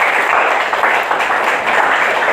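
A classroom group bursts into dense, steady clapping, close and loud for a couple of seconds with no voices over it.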